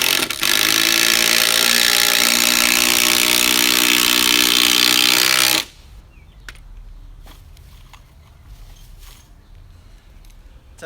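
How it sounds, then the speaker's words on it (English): A cordless power drill drives bolts into a tank rack under construction, whirring loudly and steadily for about five and a half seconds before stopping abruptly. Scattered faint clicks and handling noises follow. "my drill's gonna run out of battery fast"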